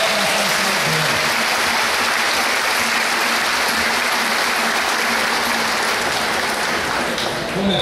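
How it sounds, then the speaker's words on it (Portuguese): Congregation applause during a novena night for the patron saints Philip and James, a loud continuous wash of many hands clapping that holds steady and close throughout. "Uma salva de palmas para Chica."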